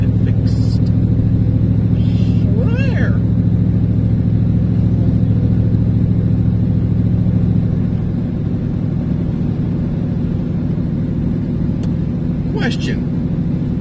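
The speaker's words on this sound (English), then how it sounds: "Or you could just get your damn muffler fixed." A truck engine with a broken muffler idles close by, putting out a loud, continuous low rumble that holds throughout, with a few brief spoken words over it.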